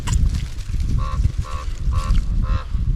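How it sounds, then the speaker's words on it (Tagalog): In a wild blueberry field in Canada, a crow gives four loud, evenly spaced caws about half a second apart over a constant low rumble of outdoor and handling noise. "Uwak maingay."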